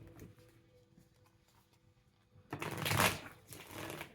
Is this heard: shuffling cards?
yes